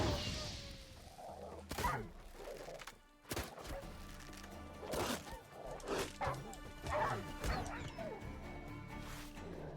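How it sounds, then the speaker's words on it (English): Dogs bark and yip repeatedly in the video game Witcher 3, sharp barks and whimpers mixed with combat thuds under a player's talking. "We got dogs out here."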